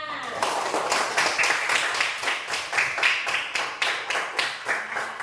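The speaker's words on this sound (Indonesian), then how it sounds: "Tepuk tangan buat kita semua" A class of children claps together in rhythmic, evenly spaced bursts, loud and close, a regular patterned clapping that continues steadily throughout.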